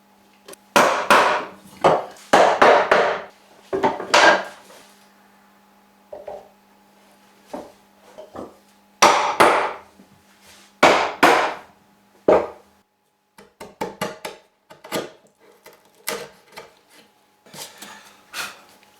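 A steel chisel cutting into wood along a knife wall while a rustic viking bench is handmade, giving clusters of sharp knocks and scraping chops in bursts, with quiet pauses between strikes.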